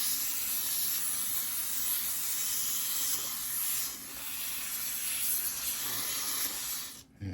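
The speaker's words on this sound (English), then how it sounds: "So you get a washcloth, soak it with the silicone" Aerosol can of silicone spray hissing steadily into a washcloth up close, one long continuous burst with a brief dip midway before cutting off at the end.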